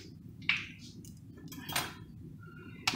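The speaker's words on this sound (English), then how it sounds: "So you're going to crack your egg in your container," An egg is cracked against a container on a kitchen counter, with a few sharp close taps and clinks spaced out over a low background hum.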